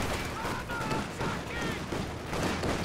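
A .50 cal machine gun lays down suppression fire in a tank battle video game, dense rapid bursts of gunfire and booms that keep rolling throughout, close and loud.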